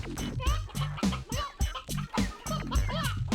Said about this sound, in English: Also, I hope you really like chicken sounds.